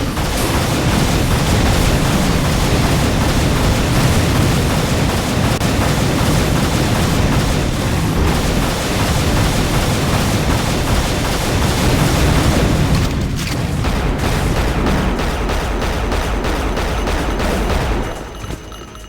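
Dense, continuous barrage of gunfire and booming rocket explosions in the video game Unreal HD, loud and sustained, easing off near the end.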